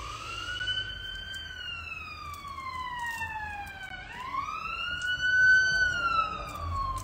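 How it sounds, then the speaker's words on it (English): A wailing emergency vehicle siren sweeps slowly down and back up in pitch, heard from a moderate distance over faint background noise. "There's a siren."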